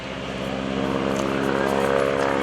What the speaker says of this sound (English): Now it sounds like Marcus Paine has pulled the throttle back a little bit on this airplane.